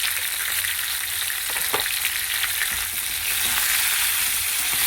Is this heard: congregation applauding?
no